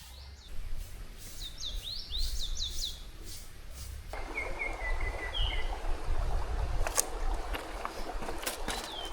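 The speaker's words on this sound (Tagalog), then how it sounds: "Narinig niyo ba yung ibon?" Birds chirp and whistle in short repeated bursts, moderately distant, over a low rumbling background with no talking, at a campsite in Tanay, Rizal.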